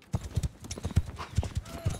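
Horse archers gallop across a battlefield in the video game Mount and Blade Bannerlord, a fast irregular clatter of many hooves, close and fairly loud, with faint voices mixed in.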